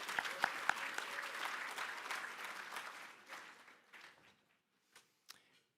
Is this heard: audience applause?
yes